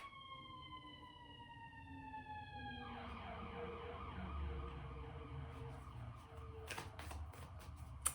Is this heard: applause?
no